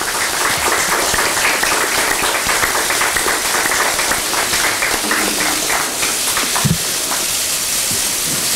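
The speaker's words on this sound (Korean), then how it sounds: "예, 다시 한번 큰 박수 보내주십시오." Sustained applause from the audience at a Democratic Party supreme council meeting, honouring an outgoing floor leader with a bouquet presentation; steady, dense clapping at even loudness throughout with a few brief sounds beneath it.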